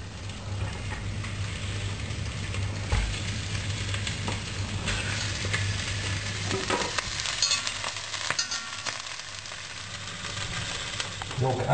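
Steady sizzling and crackling of chicken pieces and whole garlic cloves frying in olive oil, with occasional stirring clatter, close and continuous.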